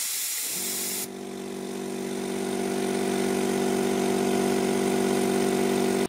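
An air compressor powered by a solar generator starts up and runs steadily, a droning motor hum with a constant airy hiss over it, growing slightly louder as it continues.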